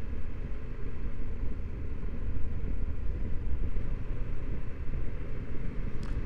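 Motorcycles riding along a road on a touring trip through the Picos, Portugal and Pyrenees, a BMW just ahead: a steady, loud engine drone mixed with rushing wind rumble throughout.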